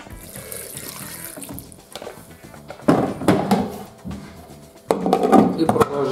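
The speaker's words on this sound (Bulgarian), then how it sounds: "Така, сега ще долеем ледена вода." Ice water is poured into a sausage meat emulsion for homemade Kamchia salami, heard as bursts of liquid splashing and sloshing close by, separated by quieter stretches with faint handling noise.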